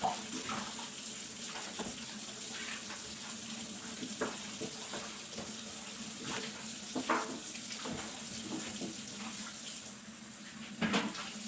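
Washing up at a kitchen sink while preparing vegan crab cakes, with a steady hiss of running tap water and occasional soft clinks and splashes of dishes throughout, no talk.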